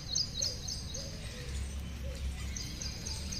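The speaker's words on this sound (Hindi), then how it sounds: "पक्षियों की आवाज आ रही है, कितनी बढ़िया बढ़िया है।" Birds chirp in an outdoor setting near a hospital, with repeated short high calls in small bursts near the start and again toward the end, fairly faint over steady low background rumble.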